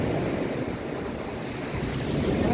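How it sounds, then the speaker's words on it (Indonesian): Surf washing steadily onto a free public beach in Singkawang, with wind buffeting the microphone throughout; a continuous broadband roar with no voices. "inilah pantai gratis teman-teman ya"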